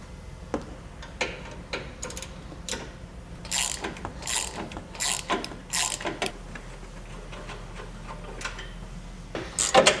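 A ratchet wrench loosens a tow hook bolt on a 2025 Ford F-150, giving repeated bursts of close, sharp clicking with short pauses between strokes.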